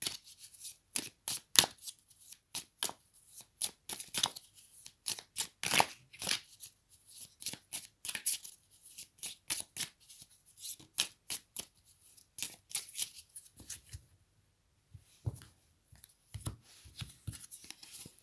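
Oracle cards shuffled by hand, a long run of quick crisp riffling flicks and soft slaps in an irregular rhythm, close and clear with no talking.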